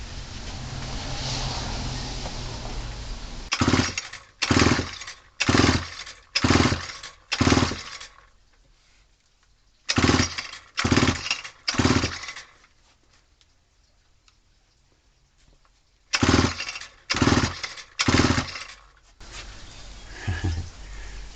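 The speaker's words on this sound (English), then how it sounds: "So if I clamp it off and then keep pulling it, I will get a little burble out of it." A vintage Homelite WIZ chainsaw is pull-started over and over with its fuel line clamped off. The close, sharp cord-pull strokes come in three quick bursts of three to five, with quiet gaps between, and no one speaks.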